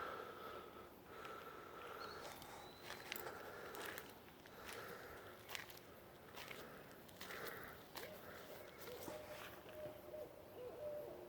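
Owls hoot repeatedly in the distance, soft calls recurring every second or two over a faint outdoor background with a few rustling footsteps.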